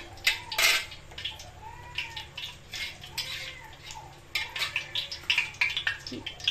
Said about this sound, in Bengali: তাও ছোটো মেয়ে খুব কাঁদছে, একটু কান্নার আওয়াজ শোনা যাচ্ছে